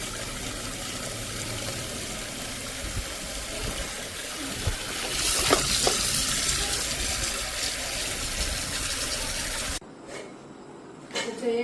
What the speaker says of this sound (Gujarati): રસ્તા કેરીને પાણીમાં પલાળી દઈએ,